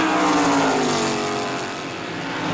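Racing cars from a 1980 SCCA amateur road-racing event scream around the track, a loud continuous roar of engines with a rising then easing pitch as several cars pass close by.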